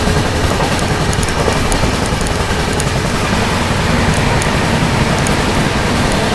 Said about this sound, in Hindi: अपनी CR राजधानी एक्सप्रेस ओवरटेक करने जा रही है LTT से चलकर बलिया की ओर जाने वाली कमायनी एक्सप्रेस को ओवरटेक कर रहे हैं